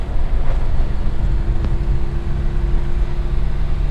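A warm Suzuki Carry engine idles high at about 2,700 rpm with a loud, steady low rumble and a faint constant tone running throughout, no talk over it.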